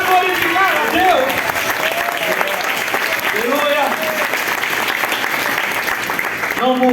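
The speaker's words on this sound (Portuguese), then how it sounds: "Sinta uma mão bater na outra para glorificar a Deus." A church congregation claps hands in praise during worship, a loud sustained burst of applause filling the room, with voices and singing tones running through it.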